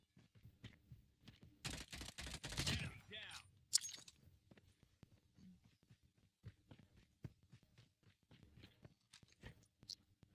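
Gunfire in a shooter video game while playing as a rusher or infantry: a loud, dense burst of rapid shots lasting about a second, followed by scattered fainter clicks and taps.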